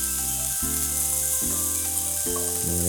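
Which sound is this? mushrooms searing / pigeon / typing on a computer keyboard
mushrooms searing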